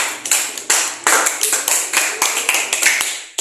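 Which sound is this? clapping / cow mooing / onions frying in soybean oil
clapping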